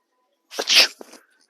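A single fake sneeze, played as a prank on shoppers in a Walmart store, bursts out close and loud: a brief sharp inhale-like onset followed by a bright explosive blast and a short trailing tail, then quiet.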